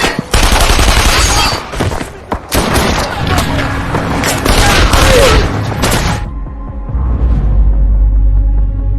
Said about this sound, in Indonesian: tiba-tiba mereka pun dihujani tembakan dan baku tembak pun terjadi